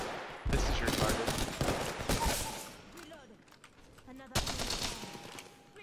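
Apex Legends gunfire erupts in sharp automatic bursts, loud at first, then thinning into scattered shots before another heavy burst, with game sounds and keyboard clatter underneath.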